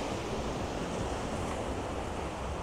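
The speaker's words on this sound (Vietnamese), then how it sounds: "nghe tiếng sóng biển vào ban đêm nha anh chị" Sea waves wash onto a beach at night in Quy Nhon, Vietnam, a steady broadband roar of surf mixed with wind, with no talk.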